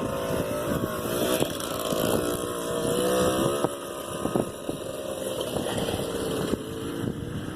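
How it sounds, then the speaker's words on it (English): Engine of a 1986 four-wheeler ATV churning through mud, droning steadily with revving swells and dips, loud and close amid wind noise. "Tearing that mud up."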